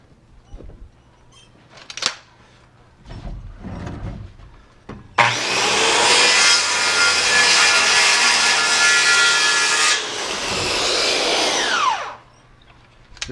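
A power saw cuts wood at a 16-degree bevel in a home build: a few knocks and handling sounds, then a loud whining cut of about five seconds, a short dip, and a second cut that winds down.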